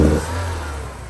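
A 1984 Porsche 944 engine snaps up under a quick stab of throttle, a loud burst at the start that drops back to a steadier drone within a second.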